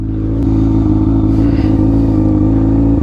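A Honda F4i motorcycle fitted with a Radiant Cycles Shorty GP exhaust runs close and loud, holding a steady throbbing engine note throughout without speech.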